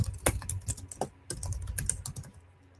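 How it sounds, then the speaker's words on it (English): Keys clatter on a computer keyboard in a quick, uneven burst of close clicks, with brief pauses between clusters of strokes; no one speaks. "Let's try typing"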